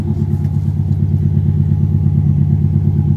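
A Subaru Liberty (Legacy) engine idles steadily with a deep, throbbing exhaust rumble, loud and close, continuous with no talking.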